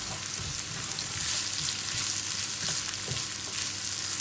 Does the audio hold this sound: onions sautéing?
yes